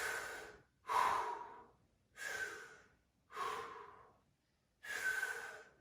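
Deep breathing in a squat, five slow, heavy breaths in a steady rhythm, each a close, airy rush with brief silent pauses between.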